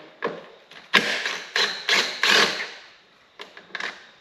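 A ratchet unscrewing a 10mm bolt that holds the coolant bottle on a Toyota Camry, a burst of quick clicking strokes followed by a pause and a few more clicks, close with no talk.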